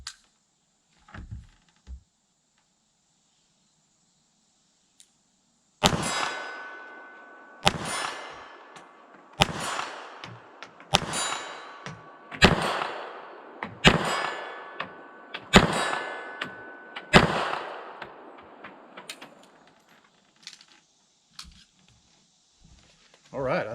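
A Beretta 3032 Tomcat .32 ACP pistol fires at a steel plate 25 yards away, giving about eight sharp shots, each followed by a ringing metallic clang, spaced a second or two apart after a quiet start.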